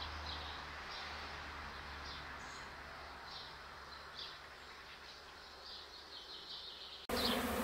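Honeybees buzz around a hive outdoors in a steady, dense hum with individual bees droning past close by. Near the end the sound cuts abruptly to a louder, different burst of noise.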